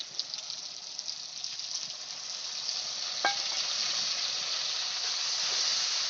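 Water hits a hot paste of tomato, dried red chilli and cumin frying in a pan, giving a steady broad hiss and steamy sizzle that swells slightly louder toward the end, with a brief clink midway.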